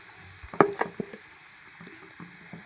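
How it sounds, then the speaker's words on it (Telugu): Ginger paste frying in a pan while cooking a stuffed ivy gourd masala curry, heard as a few sharp sputters and scraping stirs early on, then quieter sizzling, close by with no talk. "అల్లం పేస్ట్ వేస్తున్నానండి."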